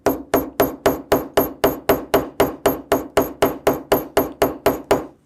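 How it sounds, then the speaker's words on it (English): A ball peen hammer tapping a brass rivet in about twenty evenly spaced, sharp metallic strikes, each ringing briefly, loud and close. "So let's take our ball peen hammer, and we're just going to start lightly tapping."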